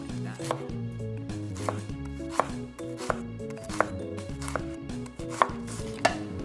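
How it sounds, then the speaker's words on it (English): A knife thinly slices Brussels sprouts on a cutting board, producing a series of crisp, close chopping strokes at an irregular, unhurried pace. "you want to create a nice flat area and then cut really thin like that"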